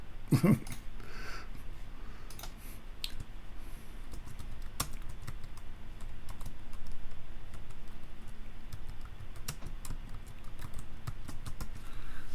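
Typing on a computer keyboard in a recording studio, steady light key clicks running throughout over a constant background hum, with a louder knock near the start and no talk.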